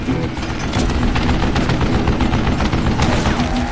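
Dense, sustained gunfire fills a Call of Juarez Gunslinger shootout, with rapid overlapping shots and booms rattling continuously at high volume and no pause.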